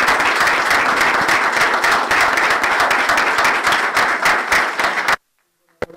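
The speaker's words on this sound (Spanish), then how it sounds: "Entonces, un fuerte aplauso también." Loud, close applause at a ministerial swearing-in ceremony, many hands clapping in a dense, rhythmic burst that stops abruptly, leaving near silence with a faint sound at the very end.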